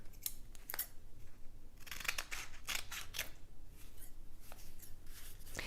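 Scissors cutting a strip of kinesiology tape into length, giving a series of crisp close snips spaced unevenly, the sharper cuts standing out against quiet background with no talking.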